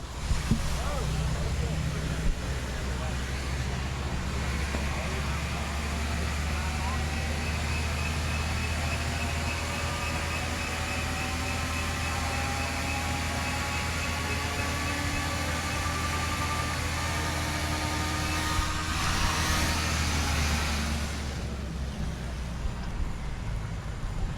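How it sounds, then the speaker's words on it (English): A Hammelmann high-pressure water pump runs at reduced flow, around 5 gallons a minute, giving a loud, unbroken mechanical drone with faint steady tones layered over a heavy low rumble throughout. "Normally it pumps about 30 gallons a minute at full speed."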